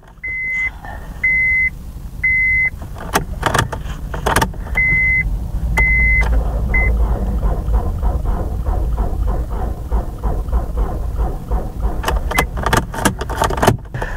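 Honda CR-V engine cranking on an underpowered jump pack, a steady low labored churn that never catches, preceded by repeated dash chimes and clicks, close and continuous for over ten seconds.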